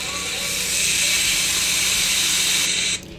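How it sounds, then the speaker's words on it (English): An NY strip steak hits a hot pan and sears with a loud, close, hissing sizzle that holds steady for a few seconds, then suddenly drops to a quieter hiss. "If your steak don't sound like that going in the pan"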